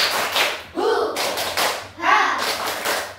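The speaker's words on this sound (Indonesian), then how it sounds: "Yuk, tepuk semangat." Schoolchildren in an elementary classroom perform a rhythmic 'tepuk semangat' chant-clap, with bursts of patterned clapping alternating with short shouted voices, close and fairly loud.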